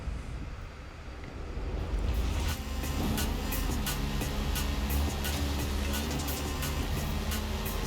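A plane's engine drones steadily in Forza Horizon 5 during a race against an aircraft, a broad sustained roar that swells after a quieter start and holds with faint repeating ticks on top.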